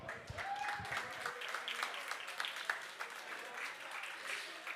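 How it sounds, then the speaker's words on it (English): Conference audience at an exhibition stage applauds a speaker, a faint, moderately dense patter of clapping from a crowd, with a brief voice near the start. "So please give an applause for Kamil."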